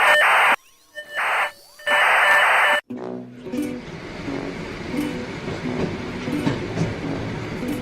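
Long steady horn blasts sound first, then a moving train rumbles and clatters along the rails at a continuous, busy pace, travelling through remote country in North Korea.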